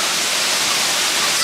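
A waterfall rushes steadily nearby on a hiking trail, a dense broadband roar of falling water filling the short moment with no pauses.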